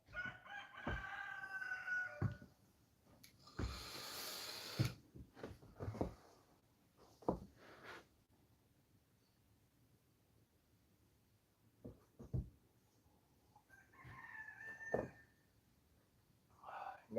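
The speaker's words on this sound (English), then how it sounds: "We got the rooster crowing." A rooster crows a few times at a distance, with hens clucking softly and scattered outdoor sounds between the calls.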